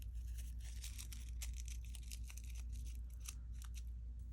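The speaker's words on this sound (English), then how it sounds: "I'm just gonna go ahead and cut fringe along the rest of it." Scissors snip a fringe of skinny strips into paper for a paper flower, with quick, close, evenly repeated cuts and a soft crinkle and no talking.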